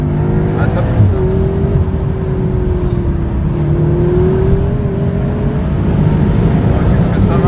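A 2019 SEAT Leon Cupra accelerating hard, heard from inside as a loud sustained engine drone with a rising, steady pitch, and people talking under it.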